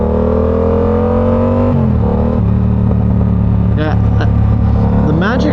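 Exhaust of a Yamaha R7 motorcycle while riding, a loud, close, droning engine note that holds steady and then shifts pitch, with a few brief whistling sounds near the end.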